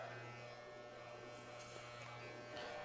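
Electric hair clippers buzzing steadily while tapering the temple area into a fade, a faint continuous low hum with slight changes as the blade moves through hair.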